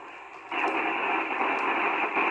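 Steady hiss of static hash from an ACItron SSB400 radio receiver fills the air, jumping louder after a moment and holding as a dense, even rush of noise.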